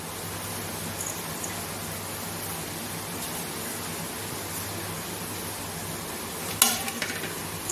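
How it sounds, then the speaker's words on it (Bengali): Palm pulp batter is stirred with jaggery and grated coconut, giving a soft, continuous, close scraping and squelching with a sharper clink near the end. "এই উপকরণগুলো আগে ভালোভাবে মিলিয়ে নেব।"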